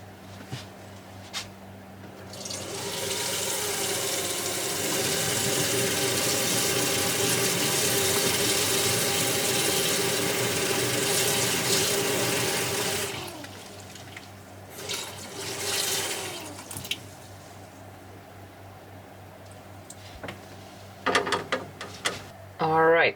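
Tap water rushes into a pot holding strips of orange peel for candied peel, a loud steady stream lasting about ten seconds, followed by quieter clinks and handling noises.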